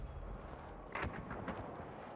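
A deep explosive boom hits, followed by a second muffled blast and rumbling, fairly faint and distant.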